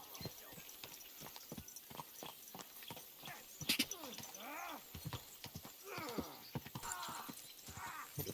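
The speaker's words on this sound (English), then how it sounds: "horse really doesn't like running in here" A horse in the video game Kingdom Come: Deliverance 2 runs through a city, with a rapid, close clip-clop of hooves on hard ground and several whinnies breaking in over the steady gait.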